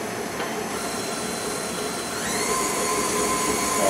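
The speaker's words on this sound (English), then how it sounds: "just to make sure that the butter is creaming with that sugar" An electric mixer creams butter with sugar, giving a steady whirring motor whine that rises a little in level partway through, with no talk.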